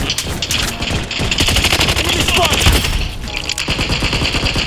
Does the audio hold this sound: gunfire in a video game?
yes